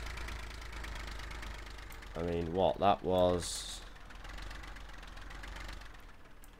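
In the video game Farming Simulator 15, a tractor engine idles with a low, even rumble and light knocking pulse throughout, while someone speaks briefly over it in the middle.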